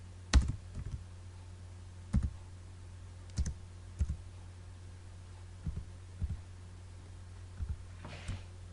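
Computer keyboard keys are pressed in short clusters of sharp clicks, a few seconds apart, over a low steady electrical hum, close and quiet, with no speech.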